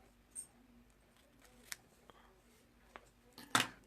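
Scissors trimming a ribbon bow for a handmade card: a few faint, sparse snips and clicks scattered over a quiet room background, with one louder crisp cut near the end.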